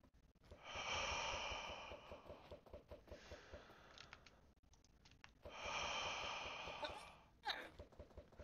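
Heavy, harsh breaths blown straight into a microphone, two long loud exhalations with rougher huffs between, close and distorted.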